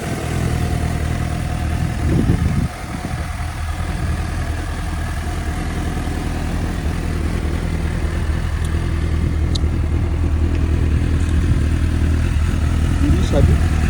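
A standard-exhaust 2017 Suzuki GSX-S750 inline-four motorcycle runs steadily close by at a loud idle, a brief throttle blip near the start, with a constant low engine drone filling the whole stretch.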